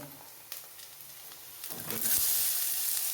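Chickpea curry masala with ginger being stirred and fried in a pan: a soft, low sizzle with faint stirring noises that builds into a louder, steady hiss in the second half, close by with no talking.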